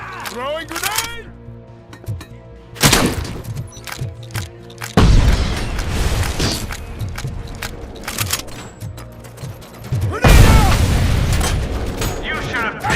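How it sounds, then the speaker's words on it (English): Grenade blasts in RoboCop: Rogue City, several heavy booming explosions spaced a few seconds apart, loud and close, mixed with gunfire, mechanical clanks and a voice speaking between them. "Throwing grenade!"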